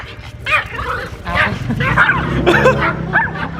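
A small dog barks and yips in quick repeated bursts close by, a couple of voices talking underneath the barking.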